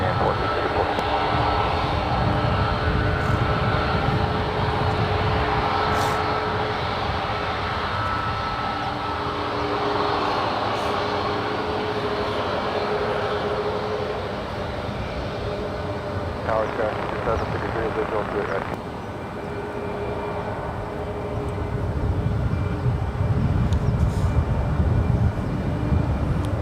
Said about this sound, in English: That is Alaska Airlines Flight 1449 heading to Seattle, Washington. It's a 737 MAX 9.